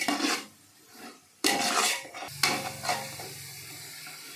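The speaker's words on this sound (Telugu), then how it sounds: "ఇప్పుడు బాగా ఇంకా కొంచెంసేపు టమాటాలు మగ్గాలి." Tomatoes cooking down in a pan for mutton biryani, a spoon scraping and clanking against the pan in bursts over a soft sizzle.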